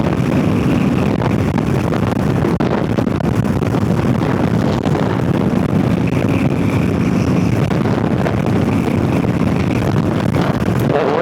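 Fast ride on a Harley-Davidson Low Rider ST motorcycle along a highway expressway, with loud steady wind roar and engine rumble continuous and close throughout, no clear talk.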